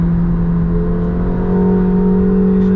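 McLaren 750S sports car engine pulling hard on the Las Vegas Motor Speedway track, a loud, steady, smooth whirring drone with a rising tone and no break.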